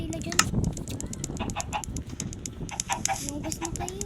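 Several Minecraft chickens cluck repeatedly in quick, scattered calls over a busy game soundscape, fairly close and distinct.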